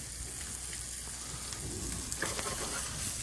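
Shrimp cooking down and glazing in a hot pan give a steady soft sizzle and crackle, rain-like and continuous at moderate distance, with no talking.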